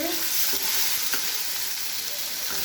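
Ginger and cumin paste frying in a pan, a steady close sizzle with occasional stirring scrapes throughout, no voices.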